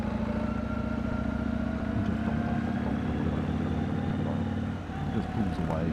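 A Yamaha MT-01 SP motorcycle cruising at low RPM on a road in Hakone, Japan, with a steady, deep engine thrum and some wind noise underneath, fairly quiet and continuous, with a slight dip near the end.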